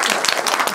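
A short burst of audience applause at a film screening, many hands clapping at once, fairly loud and close.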